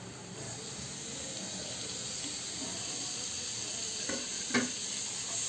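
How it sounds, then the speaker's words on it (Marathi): Onion and tomato sauté in a pan with a quiet, even sizzle and hiss, faint and steady, with a couple of soft stirring knocks near the end. "आता आपले छान कांदा आणि टोमॅटो परतत आला आहे।"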